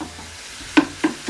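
Ground beef sizzles steadily in a pan, with three quick scraping chops of a utensil breaking up the meat near the end, close and with no talk.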